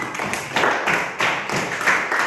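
Fourth-grade class in a Christian religious-education lesson claps for a classmate's answer, a rhythmic pattern of sharp group claps in quick bursts, close and moderately loud.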